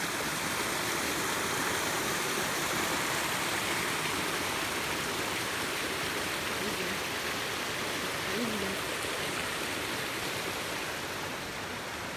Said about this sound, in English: And the water up here just coming off the mountain in the spring, it is just rushing.